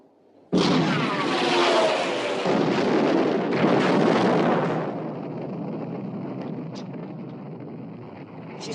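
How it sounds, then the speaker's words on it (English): A warship's main armament guns open fire in a 1960 World War II naval film about the Bismarck, a sudden huge boom followed by a long roaring, rumbling blast that slowly fades into a distant hiss, with no talking. "Open fire, main armament."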